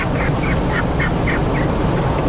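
A pet bird squawks repeatedly from inside a moving car, its bursts coming every half second or so over a loud, steady rumble of road and engine noise.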